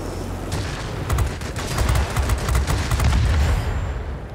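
Nose-mounted 20mm cannons on a Yak-9U fire in World of Warplanes, a dense rapid rattle of shots over a constant engine roar, loud and continuous.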